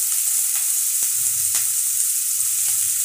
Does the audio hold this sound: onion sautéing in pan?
yes